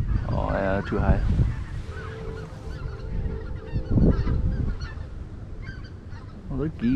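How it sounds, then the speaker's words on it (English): Geese honk near a public duck pond, several loud, nasal calls in quick bursts at the start, more around the middle and again at the end, with quieter stretches between. "Oh, they're geese."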